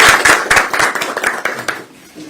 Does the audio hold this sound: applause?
yes